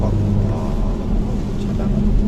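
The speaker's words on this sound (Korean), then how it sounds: "스포츠 모드를 했을 때 이 사운드 제너레이터에 들려오는 이 배기 사운드가 훨씬 더 묵직하고 고급스럽게 다가옵니다" BMW 530e in sport mode with its exhaust sound generator, a deep steady low rumble inside the cabin, continuous and fairly loud throughout.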